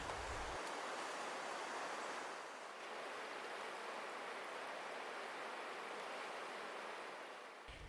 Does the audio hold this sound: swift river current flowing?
yes